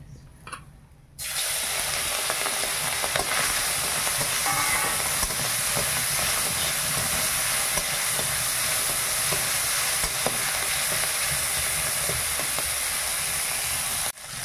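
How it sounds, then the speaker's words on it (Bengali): About 150 grams of peeled, headless prawns fry lightly in a pan with a steady, close sizzle and hiss. The sound starts after a quiet second and then holds constant to the end. "চিংড়ি মাছ ভাজা হয়ে গেছে"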